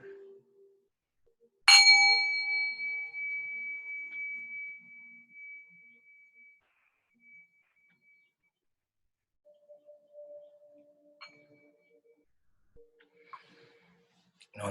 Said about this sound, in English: And on that final bell,